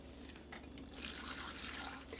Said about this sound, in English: You want to pour your hot water just until it covers your green beans